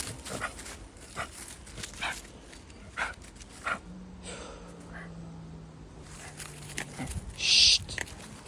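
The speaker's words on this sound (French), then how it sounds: "Un chien." A dog on a walk gives several short, brief barks and yelps spaced across the stretch outdoors, with a person's voice nearby and a sharp gasp-like sound near the end.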